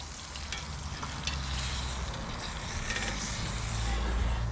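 Steaks sizzle on an Ooni Koda 16 gas-powered pizza oven after being flipped, a steady, fairly loud hiss of frying with a few soft scrapes and clicks, close by.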